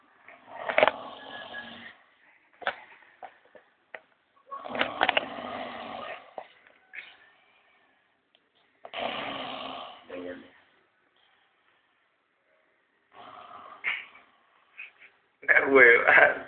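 A man snoring in long, loud rasping breaths separated by silent pauses, close to the listener, with a few shorter snorts in between.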